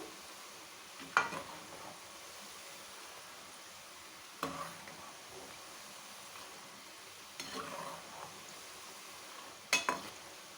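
Cashew mathri frying in hot oil until golden, a soft steady sizzle running throughout with a few sharper stirring clinks and scrapes at intervals, no talk.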